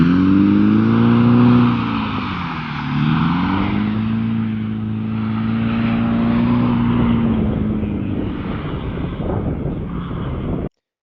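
Race cars on a frozen ice lake drive past with a loud engine whine that rises, dips and rises again as they accelerate and rev, a sustained roar with no talk.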